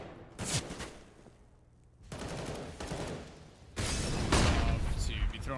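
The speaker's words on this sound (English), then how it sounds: "Shot out from the AK." AK rifle fire in a Counter-Strike match: bursts of gunshots at varying distances, some loud and close, others fainter, mixed with game sounds and a caster's voice.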